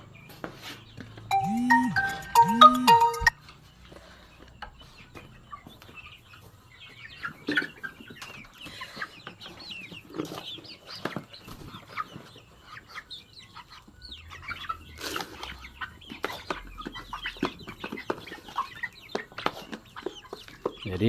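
Young chickens under two months old cluck and squawk in a coop, with a loud burst of calls in the first three seconds and then scattered softer clucks and rustling through a steady barnyard murmur.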